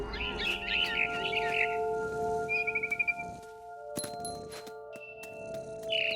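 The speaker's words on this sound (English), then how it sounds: "Then I heard chirping outside my window. It was a barn swallow going back to her nest." A barn swallow chirps in What Remains of Edith Finch, with quick high twittering bursts at the start and a short trill midway, set over a steady humming game ambience, followed by a few faint clinks.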